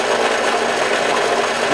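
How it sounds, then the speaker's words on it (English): A power drill runs briefly, its steady whirring motor whine boring a fingerboard hole into an oval shape, close and fairly loud with no talking. "Now, you could use the drill a little bit."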